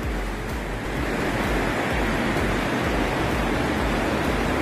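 The Lütschine river near Bern rushes loudly and continuously, a dense, close roar of flowing water with no pauses and no voices.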